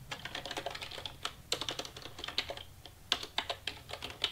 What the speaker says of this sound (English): So I'm going to type in, what is it?